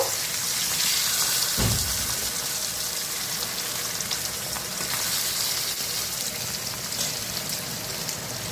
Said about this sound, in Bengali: এই যে বাটা মাছ ভাজা হয়ে গেল আমার